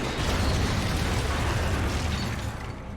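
In the video game Mass Effect 2, an explosion fills the scene with a dense, sustained roaring blast and rumble that stays loud and broad before easing slightly at the end, with no talk.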